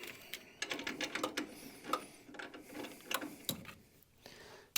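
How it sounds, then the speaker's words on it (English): A ratchet clicks in quick uneven runs while tightening a through bolt near a car's steering box, close and fairly quiet, with pauses between bursts. "I'm going to go ahead and tighten up the through bolt."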